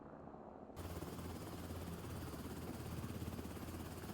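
Helicopter arriving in the shooter Beautiful Light. A quiet opening gives way to a loud, constant rotor roar with rapid chopping pulses that builds slightly as it comes closer.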